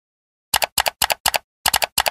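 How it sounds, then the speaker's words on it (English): Keystrokes on a computer keyboard as a command is typed into PowerShell, coming in six quick clusters of clicks with short pauses between them. The typing is close and crisp, with no talking. "Type the following command."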